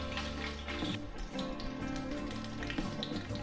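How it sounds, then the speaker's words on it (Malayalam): Brinjal pieces frying in hot oil for a brinjal curry, a steady close sizzle and crackle with scattered pops, running continuously for a few seconds with no talking. "നമ്മളിത് എണ്ണയിൽ തന്നെ നന്നായിട്ട് വേവിച്ചെടുക്കും"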